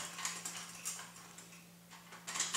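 A Spectra Precision 5.2XL laser level being screwed onto a standard tripod by its threaded mount gives quiet ratcheting clicks and light mechanical scrapes under a steady low hum, with no speech.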